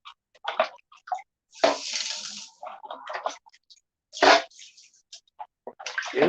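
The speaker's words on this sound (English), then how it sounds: "We're going to take the water and just dump it in." Water from a pan is dumped in bursts into an angled sluice while gold panning, several splashing pours and sloshes with quiet gaps between, close to the microphone and without speech.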